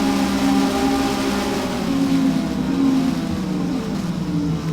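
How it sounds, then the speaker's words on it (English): Race car engine held on the rev limiter in sixth gear while slipstreaming another car, a loud, steady high-pitched drone with the stuttering buzz of the limiter running throughout. "6th gear, I'm on the rev limiter again."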